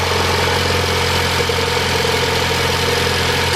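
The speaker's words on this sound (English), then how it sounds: "now we're gonna get a first startup with the spark plugs in before we go to the turbo" A 1.8T engine in a MK7 Volkswagen Golf idles steadily with new spark plugs installed, a constant close mechanical hum and rattle with no talk over it.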